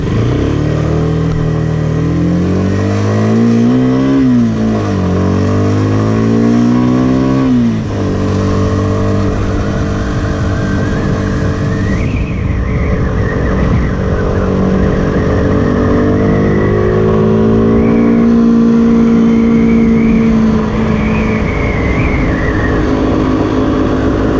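A CF Moto 150NK motorcycle engine hums loudly as it is ridden, with its pitch climbing under acceleration, dropping sharply at gear changes and then rising again, steady wind noise behind it, and no talking.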